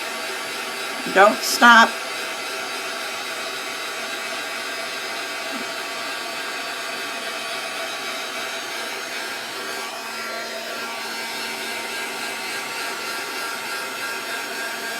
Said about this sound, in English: So I'm going to get out my heat tool and just help it along.